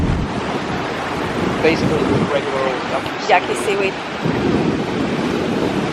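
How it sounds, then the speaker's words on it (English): Ocean waves roll up a beach at low tide in spring wind, a steady broad wash with gusty microphone noise throughout, while a person talks over it. "Look at the waves right here. They go awesome. Just rolling up."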